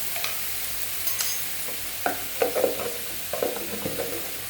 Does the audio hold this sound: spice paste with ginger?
yes